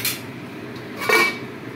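A metal pot lid handled over chicken cooking on the stove: a short clink at the start, then a brighter clattering scrape of the lid about a second later, fairly close, with quiet room noise between.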